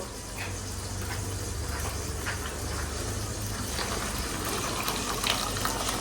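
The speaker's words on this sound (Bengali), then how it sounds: "এখন ইলেকট্রিক কেটলি অলরেডি পানি গরম করে ফেলছি, সেই পানিটা দিয়ে একদম বসায় দিব" Hot water from an electric kettle is poured in a steady, continuous gush, filling a cooking vessel nearby at even volume with no speech.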